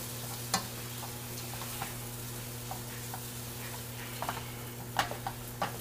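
A few soft scraping clicks of a utensil stirring seasonings and herbs into a pot of vegan étouffée, spaced irregularly over a steady low kitchen hum.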